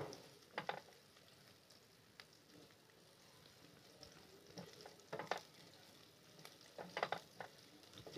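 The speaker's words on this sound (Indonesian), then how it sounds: "tumis hingga harum bawang putihnya dan bawang bombay" Garlic and onion sauté in an oily pan for chicken gyoza dipping sauce, giving a soft steady sizzle broken by occasional louder crackles and stirring scrapes, close and fairly quiet with no talking.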